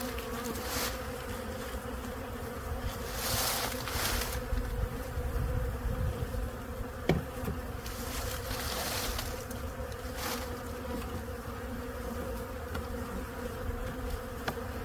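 Honey bees buzz steadily around a hive while robbing honey, a dense continuous hum close by with brief louder swells as individual bees pass.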